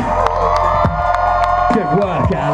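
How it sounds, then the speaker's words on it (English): A crowd at a Danny MacAskill Drop and Roll Tour trials bike show cheers and whoops for the champion rider, with shrill children's shouts rising over a brief burst of excited voices. "can we give him a round of applause and a congratulations?"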